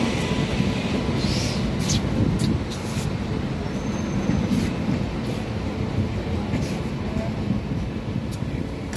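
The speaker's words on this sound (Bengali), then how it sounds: "ট্রেন প্রায় এসে গেছে" A Vistadome train arrives at Borra Caves station with a heavy, continuous rumble that stays loud and close, while voices murmur faintly nearby.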